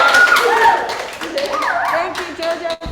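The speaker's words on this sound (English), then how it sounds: "can you please give a big, huge applause for Munit and Busy and Carla and Denise?" Campers applauding performers, lively clapping mixed with cheering voices and chatter, fairly close and loud, continuing for a few seconds.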